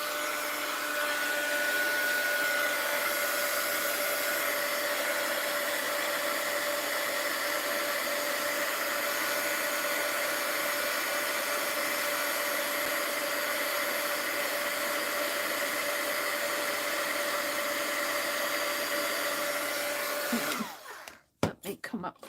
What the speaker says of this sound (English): So we're going to melt this with my heat gun.